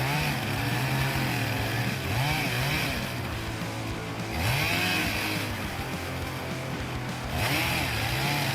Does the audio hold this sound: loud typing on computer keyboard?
no